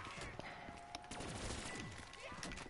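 Explosions and bursts of gunfire in a video game as a mine goes off, a loud dense clatter of shots and blasts running throughout under a busy game soundscape with some speech.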